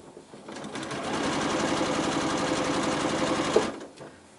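A sewing machine stitching quilt nine-patch pieces runs in one continuous burst of about three seconds, a fast, even needle chatter up close that starts and stops cleanly, with no voices.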